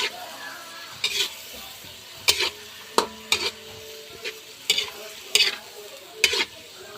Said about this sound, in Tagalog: halu-haluin lang po ng mabuti